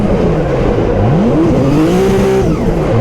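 A 700-horsepower Nissan 350Z tears around a racetrack, its engine loud and close, pitch sweeping down and then climbing hard as it revs, with a hint of tire noise underneath.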